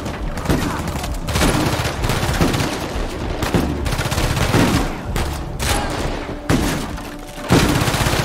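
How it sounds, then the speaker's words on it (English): Repeated rifle shots crack through a firefight in the action video game Uncharted 4, sharp loud reports arriving in rapid irregular bursts amid battle noise. "Forgot I had a sniper rifle."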